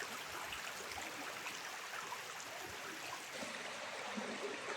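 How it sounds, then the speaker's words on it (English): A clear brook running through old spruce and hemlock woods in Maine gives off a faint, steady rush and trickle of flowing water, continuous and distant, with no voices. "I don't know if you guys can see how crystal clear this Jellison Brook water is."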